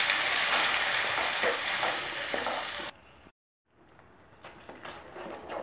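Onion and tomato paste sizzles loudly in oil in a kadai while being stirred, a dense frying hiss that drops out briefly near the middle before resuming a little quieter, with scraping stir sounds.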